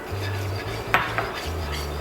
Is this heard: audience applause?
no